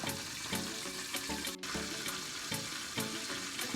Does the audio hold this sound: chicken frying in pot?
yes